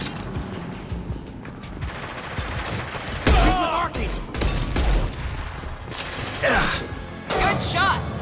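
Gunfire in the video game Mass Effect 2, an irregular barrage of sharp bursts and cracks layered with clanking impacts and game voices, loud and close in short clustered volleys.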